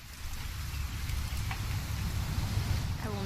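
Continuous rainfall in What Remains of Edith Finch washes across the scene as a constant, close patter and hiss. Only a faint tonal trace rises briefly near the end, with no talking.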